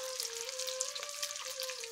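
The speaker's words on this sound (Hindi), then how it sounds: "तो गाइस तलना स्टार्ट हो गया है।" Fish frying outdoors in hot oil, a soft continuous sizzle and crackle with a faint steady hum running underneath.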